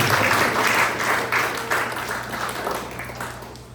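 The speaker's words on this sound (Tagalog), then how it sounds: "Isang malakas na palakpak para sa Panginoon." A church congregation breaks into loud applause for the Lord during a Sunday service, the clapping strong and full at first, then slowly tapering off as it fades.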